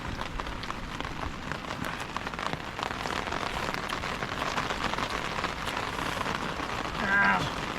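Steady rain falls outdoors in a rainy natural setting, a dense, continuous patter on surfaces that stays even and fairly loud throughout, with a brief swell near the end.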